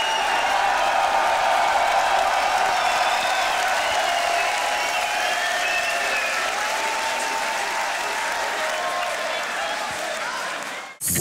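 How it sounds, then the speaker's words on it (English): A loud, sustained wave of applause and cheering from the audience at the Grand Beatbox Battle 2021 World League quarter final, steady for about eleven seconds and cutting off sharply at the end. "Make some noise for SXIN!"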